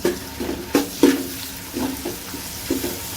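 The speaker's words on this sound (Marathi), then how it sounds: "आता यात मी टोमॅटो घालत आहे." Tomatoes tipped into onions frying in oil for a vegetable biryani, giving a close, uneven run of soft sizzling bursts and stirring scrapes with no talk.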